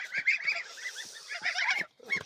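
A white Poitou goose gives a run of short nasal honks and cackling calls, close and fairly quiet, with brief gaps between bursts.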